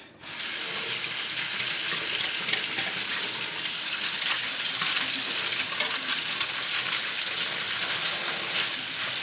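Running tap water streams steadily into a bowl of split peas being rinsed in a sink, a continuous close, even hiss that starts abruptly and carries on alone.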